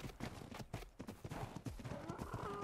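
Hooves clip-clop in a quick galloping rhythm as a horse runs in the video game ARK: Astraeos, steady and fairly close, with brief game effects layered over it.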